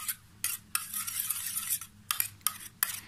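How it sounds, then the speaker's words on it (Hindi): Mayonnaise being stirred into a thick homemade hair mask paste, bursts of wet, squelching scraping from a spoon in a bowl, coming in short strokes with brief pauses between. "मेयोनीज़ को ऐड करें और इसको मिक्स कर लें"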